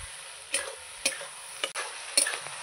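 Spice masala with potatoes is sautéed in a pan, where four sharp knocks and scrapes of the stirring tool stand out over a soft, close frying hiss.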